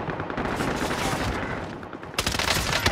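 Rapid automatic gunfire in a video game firefight, dense bursts of shots running throughout and swelling louder near the end, with no talking.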